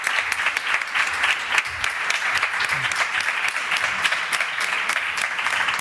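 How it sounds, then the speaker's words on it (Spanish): A conference audience applauds a speaker, a dense, even patter of many clapping hands carrying on steadily from start to finish. "Primero le damos un aplauso a este hombre que se ha tragado su historia entera."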